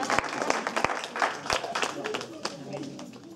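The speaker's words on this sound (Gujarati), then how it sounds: "જોરદાર તાળીઓના ગડગડાટથી વધાવી." Applause from the audience at a Gujarati dayro performance held at a baby shower, a burst of clapping with a few sharp individual claps, heard close and mixed with voices that fade as it dies down.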